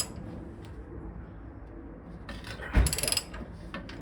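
Ratchet loosening bolts on the front shock of a 1981 Toyota Celica, soft mechanical clicking that builds into a brief louder burst of ratcheting near the end, close up with no talk.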